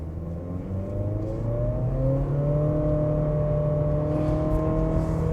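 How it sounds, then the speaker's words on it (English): A 2025 Acura ADX compact crossover engine revs hard and climbs steadily in pitch as it accelerates from a stop to about 55 mph, loud and close throughout with no voices. "You can definitely hear that engine."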